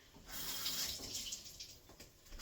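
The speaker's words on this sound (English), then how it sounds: "with 2 bell peppers, rinsing them off" Two bell peppers rinsed under a running kitchen tap, the water flow steady and splashy for about two seconds, close by and moderately loud, with no one talking.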